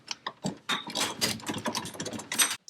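A bolt on a lower A-arm of an ATV is tightened with a ratchet or power tool, giving a quick series of close, uneven mechanical bursts over a few seconds.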